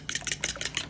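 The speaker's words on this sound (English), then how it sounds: "Whisk." Two eggs whisked for a French omelet, a quick series of close, light rhythmic taps and swishes against a bowl, about six strokes in a second.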